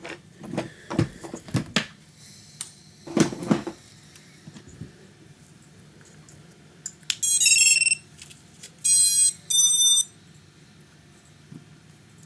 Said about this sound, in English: the customer specially asked for a beeper to be on this one